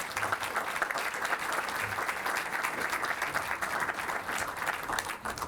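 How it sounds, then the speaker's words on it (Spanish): An audience at a human rights book fair panel claps steadily and loudly throughout, a dense and even applause with no talking. "Un aplauso para Estefanía."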